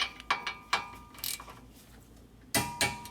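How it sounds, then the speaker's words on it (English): Torque wrench clicking as it tightens a caliper bracket bolt to 65 foot-pounds on a Ford Freestyle during front brake work, several short, faint mechanical clicks spaced irregularly against a quiet background. "I hope you can hear the torque wrench click"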